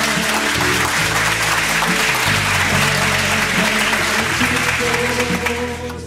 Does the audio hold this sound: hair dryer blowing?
no